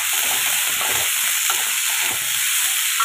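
Boiled vegetables sautéing in a pan for red sauce pasta, a steady bright sizzle and hiss with faint stirring scrapes, close and continuous.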